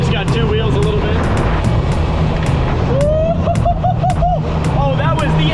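A diesel car lapping a garage track, its engine droning steadily and loud throughout, with a rising whine and tyre squeal partway through under people talking.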